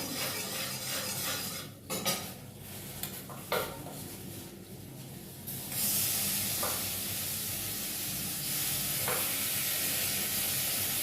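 Spice paste for chana dal fries in a pan with a steady sizzle, punctuated by a few utensil scrapes and clinks early on, then a brighter, louder hiss that holds to the end, close up with no speech.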